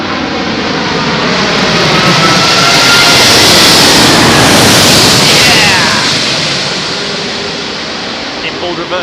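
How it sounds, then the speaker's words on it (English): An airliner landing at London Heathrow's runway 27L during thunderstorms, a loud sustained roar of engines and reverse thrust swelling to a peak and fading. Spectators talk and cheer underneath. "This one might give it large on the reversers."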